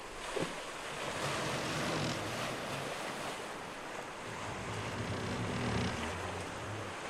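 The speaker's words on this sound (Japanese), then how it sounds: "ゆっくりとした規則的な揺れ、波が船腹をなでる音がここでは木の壁を隔ててすぐ真横に聞こえます。" Atlantic swell washes against the wooden hull of the Santa Maria, heard from inside the ship as a continuous, close, rushing surge that slowly rises and falls.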